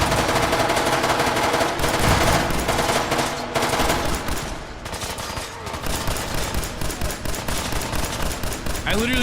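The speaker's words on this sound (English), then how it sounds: "that's some fucking serious automatic fire there" Sustained automatic gunfire in Fallout 4, dense rapid bursts crackling almost continuously, loud and close, easing briefly midway before resuming; faint talk sits underneath.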